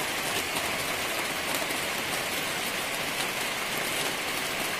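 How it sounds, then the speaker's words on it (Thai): Rain falls outside a coffee shop at Pang Chang in Chiang Mai, making a steady, even hiss that fills the scene with no other clear sounds. "เห็นไหมฝนมาแล้วสวยเลย"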